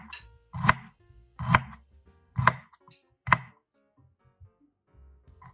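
A knife slices ginger into thin strips on a cutting board, giving four distinct, evenly spaced knocks against the board, close and clear, followed by quieter small taps.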